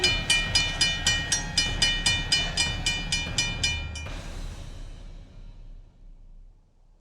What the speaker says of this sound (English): Let's wait and see if a train actually comes.